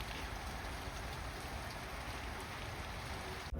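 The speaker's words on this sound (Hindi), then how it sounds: "रात से ही बारिश हो रही थी और आज भी पूरा दिन बारिश होती रही।" Steady rain falling through a rainy day in Australia, a dense, even patter on surfaces throughout, soft and continuous with no voices, ending in a brief click.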